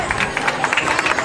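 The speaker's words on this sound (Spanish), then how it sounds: "Y un aplauso, primer puesto en canto infantil." Audience applause and cheering at a children's closing ceremony of a municipal summer program in Sullana, as a first-place children's singing award is presented; dense, steady clapping from a close crowd throughout.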